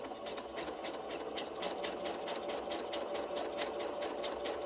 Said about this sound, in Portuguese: E vou começar a costurar.